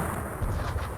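Napoleonic artillery fire in a John Tiller strategy game, Battle of Eylau, makes a dense, rumbling roar of cannon blasts filling one brief burst.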